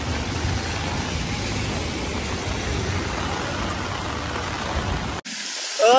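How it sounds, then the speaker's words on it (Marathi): Steady, dense rain at the Gateway of India, Mumbai, hisses loudly and evenly for several seconds, then cuts off abruptly to a different, brighter noise near the end. "इकडे मस्त असा पाऊस वगैरे चालू झालाय"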